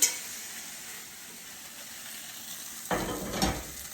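Chunks of beef stew meat sear in oil in a pan with a faint, steady sizzle, then a louder crackling burst near the end as more frying starts.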